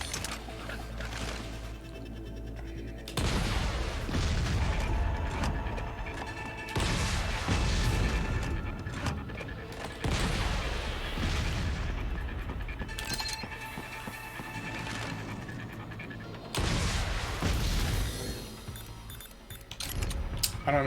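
Grenade explosions in Metal Gear Rising, several heavy broadband blasts roughly every few seconds with booming low rumble, loud and close over a continuous game soundscape.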